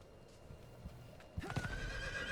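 A horse whinnies loudly, mixed with a few clip-clopping hoofbeats, fairly close and clear, in the game Diablo 4.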